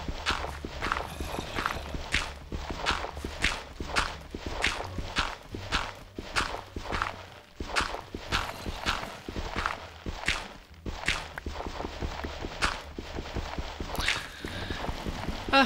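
Horse hooves clip-clop across the ground in the Minecraft video game, a steady run of crisp, evenly spaced hoof knocks that carries on at close range over a low background hum.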